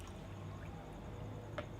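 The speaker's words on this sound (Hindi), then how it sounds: "तकरीबन हमने इसमें डालना है 6 गिलास के करीब पानी" Water is poured into a pulao cooking pot that already holds garlic and onion, a steady soft stream running under background hiss, close but fairly faint, with no talking.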